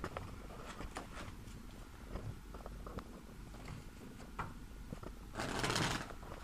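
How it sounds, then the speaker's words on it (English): Playing cards riffle and flutter in quick bursts, close and soft, ending in a louder brisk shuffle. "I'm gonna shuffle the cards"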